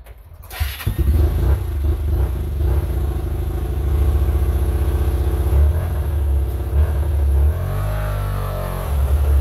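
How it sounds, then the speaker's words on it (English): A Hyosung GT 125 motorcycle with carburettor trouble, left unstarted for two weeks, cranks and catches, then idles roughly and revs up close by in a loud, steady engine drone. "it might take me a minute or two to start the bike"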